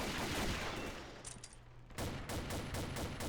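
Muffled rapid gunfire in the shooter Combat Arms, a continuous rattling fusillade that dips briefly, then resumes with distinct repeated shots; fairly quiet overall, no talking.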